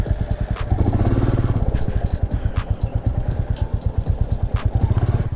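A Royal Enfield Classic 350 motorcycle riding on a road, its single-cylinder engine thumping in a fast, steady rhythm, loud and close, with a few clanks and surges as it pulls along, no talking.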